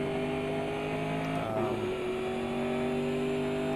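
Race cars in Grid Autosport chasing a pack: a close, steady engine hum drops briefly as revs dip around a corner, then settles back into a constant loud drone with other cars faintly audible.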